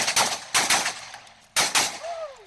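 Four loud, sharp rifle shots from a ZPAP M70 AK-47 pattern rifle at a shooting match, fired in two quick pairs roughly half a second apart, each with a short echoing tail.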